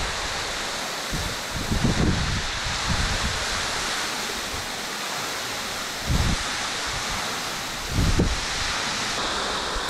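Waterfall at Samata falls in Kumano, water pouring down a cliff face in a steady, loud broadband roar that fills the whole scene, with a few brief low thumps of wind on the microphone.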